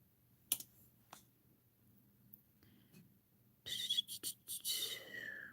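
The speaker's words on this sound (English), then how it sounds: "Man, it's so weird typing with one hand." One-handed typing on a computer keyboard, sparse isolated key clicks at first, then a quicker cluster of close taps near the end over a quiet room.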